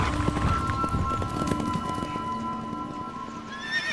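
A horse galloping hard on a rural track, with loud, rapid clip-clop hoofbeats and a whinny, close and steady throughout with no talking.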